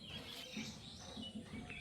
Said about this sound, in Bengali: আপনার কথা বন্ধ করলেই আপনি দ্বিতীয় যে শব্দটা শুনবেন সেটা হলো পাখির ডাক